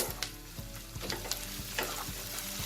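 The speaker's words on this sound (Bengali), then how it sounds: "এবার আমি এখানে কতগুলো কাঁচা লঙ্কা মাঝখান থেকে চিড়ে দিয়ে দিয়েছি।" Green chillies slit down the middle frying with lightly browned onions in a pan, a steady close sizzle with small crackling pops and occasional low knocks of a utensil, no voices.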